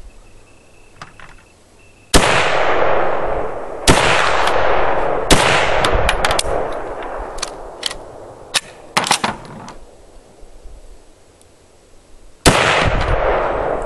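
SVT-40 semi-automatic rifle firing outdoors, a series of loud sharp shots in irregular groups with ringing decay between them, some in quick succession, close to the listener and without talk.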